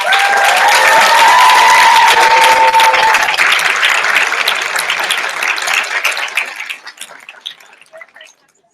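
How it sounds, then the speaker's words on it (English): Loud audience applause at a 2016 global health leadership summit, dense clapping that holds steady for several seconds, then thins and fades to scattered claps. "Can I get another round of applause?"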